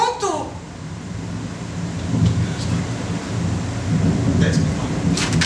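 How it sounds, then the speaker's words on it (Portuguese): Steady rain pours outside at night, a continuous hiss with a rumble of thunder near the start and a few brief knocks over it. "Eu não vou sair nessa chuva!"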